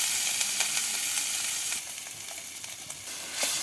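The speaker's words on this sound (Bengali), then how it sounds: "মাছ ভাজার তেলে পেঁয়াজ কাঁচামরিচ দিয়ে দিচ্ছি" Onions and green chilies sizzle in hot oil left over from frying fish, a bright continuous crackling hiss close by, with faint stirring scrapes and no voices.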